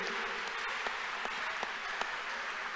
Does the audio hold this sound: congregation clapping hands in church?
yes